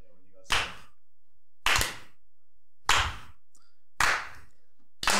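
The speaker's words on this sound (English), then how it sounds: "Slow clap." Five slow, evenly spaced claps ring out at roughly one-second intervals, each a sharp, loud smack with silence between.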